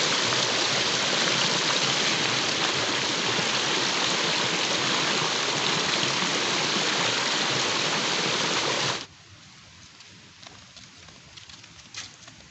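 Heavy rain pours down in a dense, steady roaring patter for most of the stretch, then stops abruptly, leaving a quiet background with a few faint drips.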